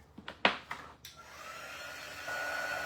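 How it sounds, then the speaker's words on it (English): A blow dryer warms wax after a few sharp clicks and taps, its motor rising into a steady whirring hum that grows slightly louder and continues alone. "Hit it with a blow dryer."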